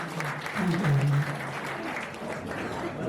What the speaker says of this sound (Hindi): सब ताली बजाकर उनको धन्यवाद